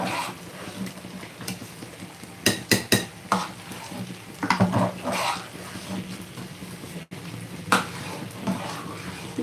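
Spoon scraping and stirring thick carrot halwa made with jaggery in a pan on the stove, repeated uneven scrapes and clacks with soft sizzling throughout, close and fairly loud.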